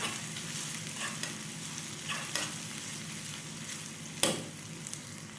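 Onions frying in ghee over low flame, a steady close sizzle with a couple of sharp scrapes or stirs cutting through, no voices.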